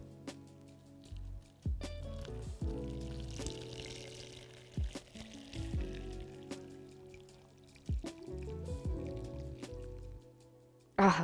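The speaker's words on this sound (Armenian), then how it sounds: "եւ բնականաբար այստեղ մեզ պետք է եռացրած ջուր։" Boiled water pours over tea leaves with honey in a cup or pot. The pour comes in several short, quiet trickling bursts with pauses between them, and a faint voice can be heard.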